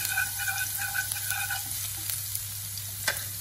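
Minced garlic sizzles and fries steadily in hot oil in a pan, a continuous crackling hiss with small pops and a few brief scraping stirs, close and alone with no talk.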